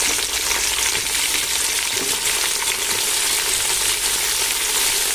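Large, roughly chopped tomatoes and onions fry in oil in a big pot for chicken dum biryani, giving a steady, dense, close sizzle with faint stirring, no talk.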